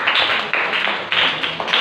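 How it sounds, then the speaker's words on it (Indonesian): A room of people applaud together at the end of a class lesson, a dense, fairly close patter of many hands with slight swells, with no talking over it. "Tepuk tangan untuk kita semuanya"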